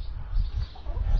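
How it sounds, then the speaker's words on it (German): Backyard hens kept in a garden chicken tractor cluck softly in a short, fairly quiet burst of low murmuring calls, with no talk over them. "Jo, den Hühnchen geht's gut."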